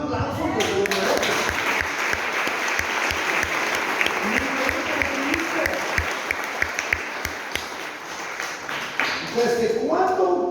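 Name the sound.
congregation applause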